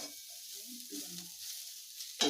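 Sliced potatoes fry in a pan for homemade chowmein, giving a steady, fairly soft sizzle with a brief clatter near the end and no speech.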